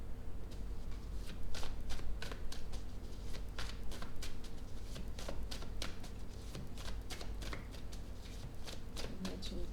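Tarot cards are shuffled and laid down on a table, a steady run of crisp riffling taps and slaps, close and fairly quiet, with faint background talk.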